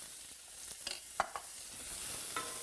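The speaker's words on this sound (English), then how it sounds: "We saute the three together for about 3 to 4 minutes." Chopped ginger and a cup of chopped onion stir-fried in a pan while making black-eyed pea soup with kale, giving a steady low sizzle broken by a few sharp scrapes and clinks of the stirring utensil, close and without talk.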